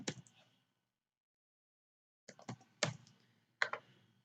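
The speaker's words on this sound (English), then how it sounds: "Okay, pin code we have to type." A pin code is typed on a computer keyboard in short bursts of close, crisp key clicks: a few presses, a silent pause of about two seconds, then several more clusters of taps.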